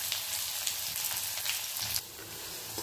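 Chopped onion sizzles in hot ghee with cumin seeds, curry leaves and green chillies, a dense close crackle that drops slightly softer near the end.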